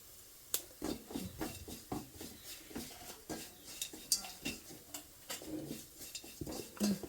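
Pepper chicken being stirred in a pan: a spoon scrapes and clacks against the metal in irregular strokes over a faint sizzle, close up, with no talk over it.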